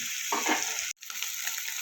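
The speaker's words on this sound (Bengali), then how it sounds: "পেঁয়াজ পাতাটা আমার ভাজা ভাজা হয়ে গেছে।" Spring onion leaves frying in a pan for steamed egg curry make a loud, close, continuous sizzle with a brief break partway through.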